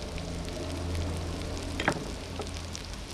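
Onions, lemongrass and ginger fry in hot oil in a Thai coal pot, giving a steady soft sizzle that goes on throughout with a low background hum. One brief scrape of stirring comes near the middle.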